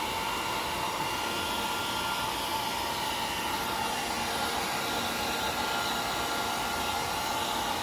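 A hair dryer blows warm air on a freshly bathed cat with a constant, steady whooshing hiss, loud and close, unchanging throughout with no other sounds.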